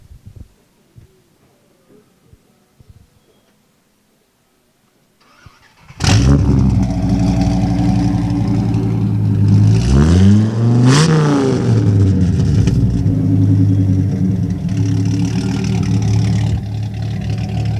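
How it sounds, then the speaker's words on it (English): A Dodge Viper engine fitted in a hot rod school bus fires up after a quiet start and revs hard several times, loud and close, then settles into a strong rumbling idle. "we'll listen to this Viper motor run"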